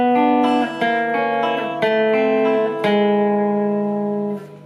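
Guitar playing a blues turnaround in a shuffle feel, with several picked, sliding notes over a sustained ringing open string, clear and close, with no talking.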